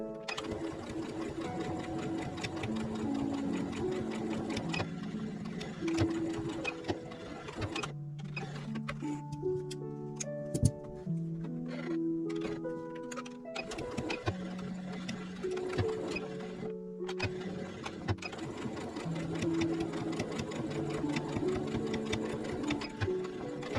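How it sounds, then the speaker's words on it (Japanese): Rapid mechanical whirring and ticking of a sewing machine stitching the sides of folded fabric for a small box, running in long stretches with a brief pause and tonal clicks midway, close and fairly quiet. "真ん中7センチ開けて横を縫っていきます。"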